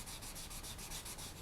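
A polymer clay bead is sanded by hand with 400 grit sandpaper in steady, rhythmic rubbing strokes, soft and close, with no voices.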